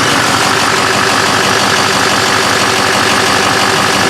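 A Duramax diesel truck engine idles loud and close after a restart, a dense, even rumble with faint knocking and no voices.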